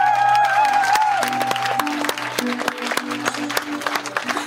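Thunderous applause from an audience after a poetry performance by Zhadan in war-affected Ukraine, a dense, sustained roar of clapping over faint musical tones, swelling loud and fading slightly toward the end.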